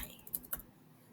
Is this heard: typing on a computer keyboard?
yes